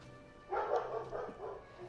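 A dog in Disco Elysium gives one burst of barking and yapping that lasts about a second and a half, fairly close and clear over a quiet background.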